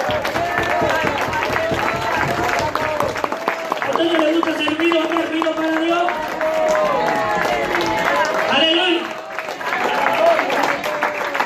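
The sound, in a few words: applause from church congregation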